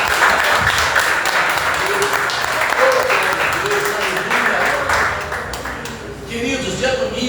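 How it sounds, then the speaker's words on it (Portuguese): A church congregation at a worship service applauds in a sustained, dense wash of clapping, with faint voices and tonal shouts rising through it before the clapping thins toward the end. "Você pode aplaudir Jesus?"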